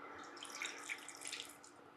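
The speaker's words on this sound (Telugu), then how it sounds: "సో కొంచెం వాటర్ వేసుకుందాము." Water is poured into a cooking pot while jonna (jowar) batter is being mixed, a short, close, bubbling splash that stays fairly even for about two seconds.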